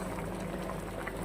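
Prawns and taro pieces boiling in a pot, a soft, steady bubbling simmer heard close and alone, without a break.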